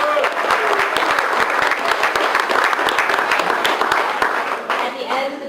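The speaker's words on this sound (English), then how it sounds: "I think Aaron deserves a big round of applause" Dense, steady applause from an audience at an outdoor groundbreaking ceremony for an inclusion playground in a park, many hands clapping at close range for about five seconds and tapering slightly at the end, with voices mixed in.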